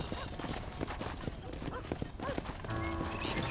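Horse hooves clip-clop at a gallop with a neigh in the Red Dead Redemption video game, over a busy, dense game soundscape with voices talking.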